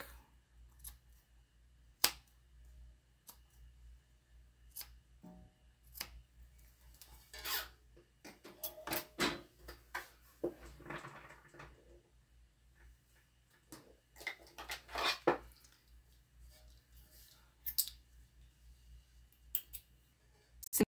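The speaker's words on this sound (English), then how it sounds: "Now we trim off any excess accent panel that hangs off past the edge of the fabric." Scissors trim excess fabric accent panel on a tote bag in scattered crisp snips and clicks, some in short clustered runs, close up against near silence.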